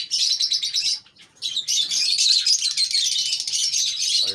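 A pair of cockatiels in an aviary chirp and whistle almost continuously in close, bright, busy calls, with one short pause near the first second before the chatter resumes.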